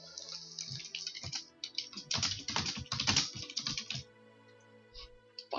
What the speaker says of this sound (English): Furious typing noises.